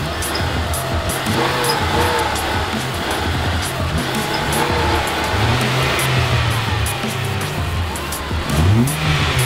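A race car in a Fast & Furious video game revs loudly and continuously, the engine pitch rising and falling through shifts with brief tire squeal, accompanied by background music.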